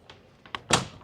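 A door is pushed shut with a soft click, then a louder thud as it closes, heard alone up close in a quiet room.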